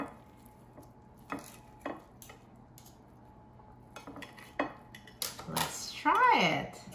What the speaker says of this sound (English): Let me cut one in half.